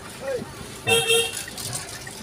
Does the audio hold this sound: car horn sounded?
yes